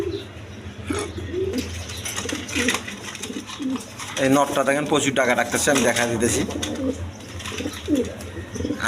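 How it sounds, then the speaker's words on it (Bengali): Lahori blue bar male pigeon cooing softly in a pigeon market, low repeated coos mixed with other birds' chirps under steady, close conversation in Bengali. "লাহোরি কবুতর ব্লু বার নর"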